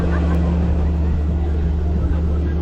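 A motorboat engine drones steadily and loudly on a lake during a boat safari near a white sand beach in Africa, a continuous low rumble with no pauses.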